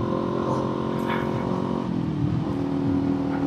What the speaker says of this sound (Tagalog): Yung tunog ng tambucho.